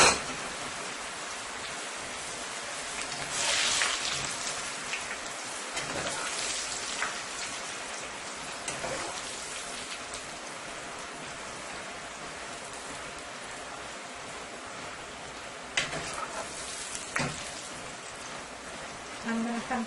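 Dough for sal sev, a Guyanese chicken foot snack, sizzling in hot oil in a pot, a steady close crackling hiss with occasional bursts of louder bubbling.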